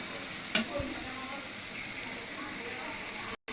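Garlic and onion paste frying in a pan for fish curry, a soft, steady sizzle with a sharp clink near the start and light stirring sounds.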